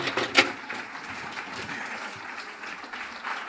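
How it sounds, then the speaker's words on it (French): Studio audience applauding for pastry chef Christophe Felder after his peanut dessert, a steady dense clapping at moderate level with one sharper clap burst near the start, no voices over it. "Moi, je vous propose d'applaudir Christophe Felder pour ses pirouettes cacahuètes."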